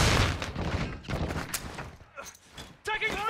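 Gunfire in Call of Duty: Modern Warfare II erupts in loud, dense bursts early on, then thins into scattered shots and impacts, with game radio-style voice chatter over the firefight.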